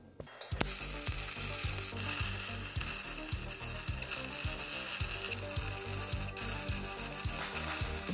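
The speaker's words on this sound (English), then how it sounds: "So now I am going to tack weld this into place." Tack welding on a battery box mount for a DeLorean EV conversion gives a close, steady crackling buzz with brief rhythmic pulses, running almost throughout.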